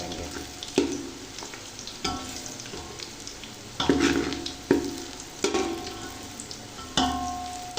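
Chopped onions sizzle and crackle steadily in hot oil, with a spoon scraping and stirring through the pan every second or so, producing sharp clatters over the continuous frying hiss; no one speaks.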